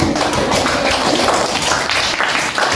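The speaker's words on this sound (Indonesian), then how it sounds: "Oke, mantap. Tepuk tangan." Students in a classroom clap their hands together, a dense, steady burst of many palms sounding close and loud for a few seconds without speech.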